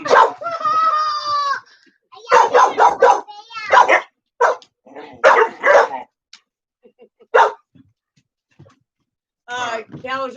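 Dogs at home barking, yipping and whining in short, loud bursts close by, with pauses between, as a person talks to them.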